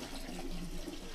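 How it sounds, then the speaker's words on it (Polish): Steady water running from a tap on a farm, used to rinse a container before foliar fertiliser is poured into a crop sprayer; a continuous, fairly loud rushing with no talking. "Leci, dobra, leci woda!"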